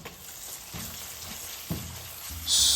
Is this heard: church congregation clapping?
no